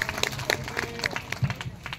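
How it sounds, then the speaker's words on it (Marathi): An audience applauding at a Marathi kirtan, with a brief patter of scattered, uneven claps, fairly close and moderately loud, plus a faint voice in the background. "टाळ्या वाजवा त्याच्यासाठी"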